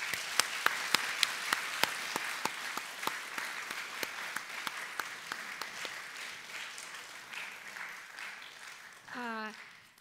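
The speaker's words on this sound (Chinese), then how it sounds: "所以我觉得我们现在要再次用热烈掌声表达我们的真诚感谢。" An audience claps warmly at an art talk in Singapore, a dense wash of applause that swells and lingers, with a few sharper claps up front and a brief voice near the end.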